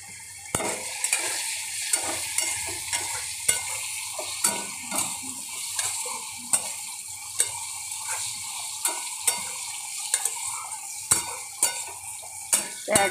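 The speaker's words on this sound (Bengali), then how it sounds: "একদম টকবক করে ফুটছে।" Vegetable curry simmering in a pan while being stirred, with a soft bubbling sizzle under repeated sharp clinks of a utensil against the pan at an irregular rhythm, close and with no talking.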